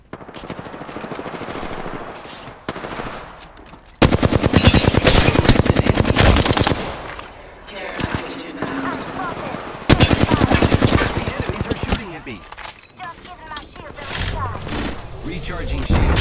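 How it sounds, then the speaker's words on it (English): Rapid video game gunfire crackles in loud automatic bursts and volleys, with sharp onsets and quieter gaps between the clusters of shots. "I am taking fire"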